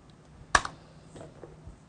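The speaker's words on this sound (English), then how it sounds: "I can type it right here." A few soft keystrokes on a computer keyboard, one sharper click followed by fainter taps, quiet and close against a low background.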